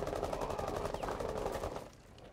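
Rapid automatic gunfire in a shooter video game, a dense burst of close shots that stops abruptly near the end, leaving a quieter tail.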